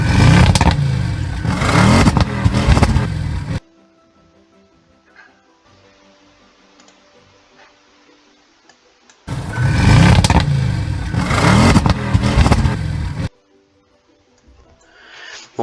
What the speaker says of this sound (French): jouer le son moteur jusqu'au bout